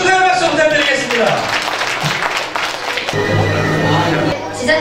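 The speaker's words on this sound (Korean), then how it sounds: "축하의 박수 부탁드리겠습니다." Congratulatory clapping from the audience at a Korean awards ceremony for press and brand honors, a loud patter of many hands mixed with voices and chatter throughout, with background music or a tone entering partway through.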